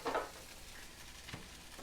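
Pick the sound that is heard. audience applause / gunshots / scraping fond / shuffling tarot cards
scraping fond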